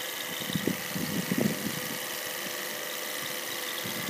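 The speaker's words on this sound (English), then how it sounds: "So it's priming itself through at the moment." High-pressure vessel testing pump set to 250 bar and priming itself, giving a steady mechanical whine and hum, with a few soft knocks and gurgles early on, running continuously at moderate level with no talking.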